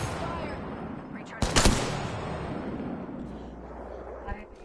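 Distant gunfire in an Apex Legends match, a short cluster of rapid shots rising out of a steady, rumbling game background, with players talking over it.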